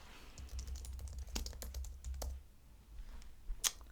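Quiet typing on a computer keyboard: a run of light, irregular key clicks with a few louder taps near the end, close by and with no speech.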